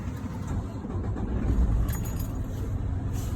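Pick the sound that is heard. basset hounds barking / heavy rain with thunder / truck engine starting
truck engine starting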